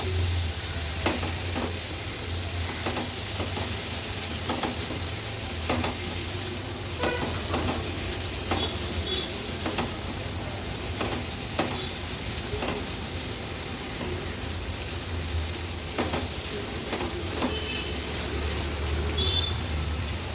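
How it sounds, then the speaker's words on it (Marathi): Prawns fry in a pan for an Agri-Koli style prawn tawa masala, a constant sizzle broken by repeated spatula stirs and scrapes at an uneven rhythm, close and fairly loud, with no voices. "आता सर्व ह्या कोलंब्या व्यवस्थित मिक्स करून घेते।"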